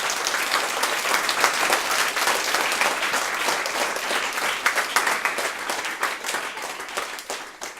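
A show audience in Béziers applauds steadily for several seconds, dense clapping that holds its level before thinning slightly toward the end.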